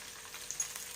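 Sliced onions sizzle faintly in hot oil in a pan while tamarind chitranna is being made, a soft steady crackle with a few small pops.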